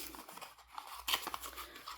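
Adhesive tape is torn, giving short faint crackling rips and small crinkles at close range, quiet and without speech.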